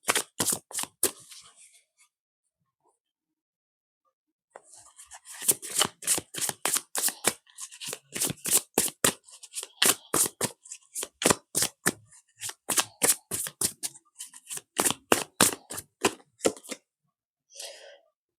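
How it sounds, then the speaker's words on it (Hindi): Tarot cards shuffled by hand in rapid crisp riffling bursts, a short pause, then a long run of sharp snapping shuffles and card draws, close and loud, with no talking. "पहले मैं कार्ड्स निकालूंगी"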